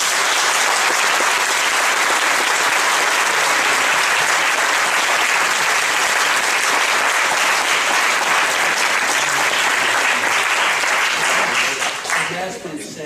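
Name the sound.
audience applause after a mock trial verdict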